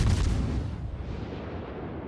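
A warship gun salvo in World of Warships booms once, loud and close, then rolls off into a long fading rumble.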